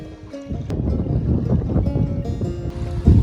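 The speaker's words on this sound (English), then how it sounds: "It's windy." Gusty wind buffets the open air on the Hart River in the Yukon during a solo canoe trip, a steady, fairly loud rush that swells and eases over a few seconds, with faint tonal hums underneath.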